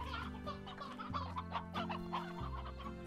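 Chickens cluck steadily in the Slime Rancher video game, a continuous busy chatter of several birds over a low game music drone, with no talk.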